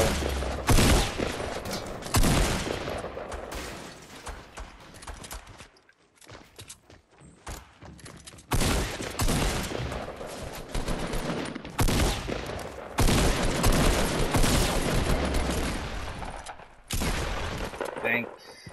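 Gunfire in a Fortnite Battle Royale match: dense, sustained bursts of rapid shots and fusillades in long loud stretches, broken by brief quieter gaps, with players talking over the fighting.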